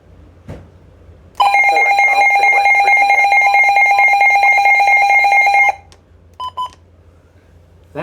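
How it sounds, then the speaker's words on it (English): Several WR120 weather radios sound their alert tones together, one of them an original Model 120: a loud, steady, multi-pitched electronic alarm tone holds for about four seconds, stops, then returns as two short beeps. "That is the sound of 3 WR120s, which is too many."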